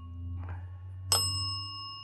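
A small bell on a haunted angel statue gives a single bright ring, with a faint earlier tinkle before it, over a low steady hum in a quiet room.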